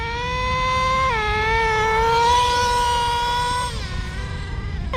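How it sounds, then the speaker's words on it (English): A Traxxas T-Maxx 3.3 nitro RC truck engine held at full throttle, a loud, steady, high-pitched whine that dips briefly in pitch and then holds again, with no voices. "Street is clear, let's get it, full throttle."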